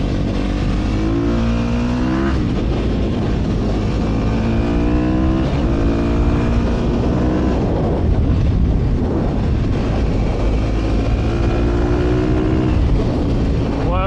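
Sherco 300 motorcycle in supermoto trim riding, its engine droning loudly and continuously with rising and falling pitch sweeps as the rider accelerates and shifts, close and steady throughout.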